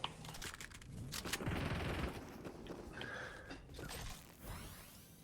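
Gunfire rattles through a Fortnite match in bursts and volleys of varying loudness, mixed with game effects and whooshes, with no talking.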